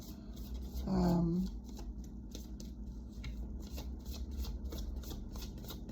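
A deck of oracle cards is shuffled in a steady run of quick riffling flicks, close and moderately loud, after a short hum near the start.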